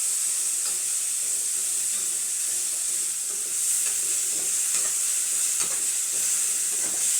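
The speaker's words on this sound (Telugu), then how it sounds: "వేస్తున్నాను. అల్లం తెల్లగడ్డ పేస్ట్ అండి ఇది." Ginger garlic paste frying in a pan, giving a steady loud sizzle and hiss with occasional stirring scrapes throughout, with no talking.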